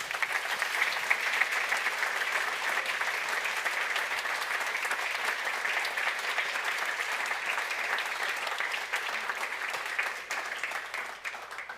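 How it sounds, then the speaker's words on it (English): A conference audience claps steadily in a dense, even wash of applause that holds for around twelve seconds and eases slightly at the end. "Applause."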